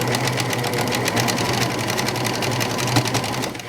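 A serger sews around the corner of a ruffled pillow, giving a loud, rapid, continuous chatter up close that holds steady for nearly four seconds, with no speech.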